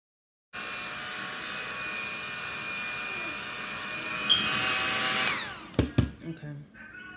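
A hair dryer blow drying a cheap wig during styling: a steady whirring blow that starts abruptly, holds for several seconds at moderate level, then cuts off, followed by brief handling knocks.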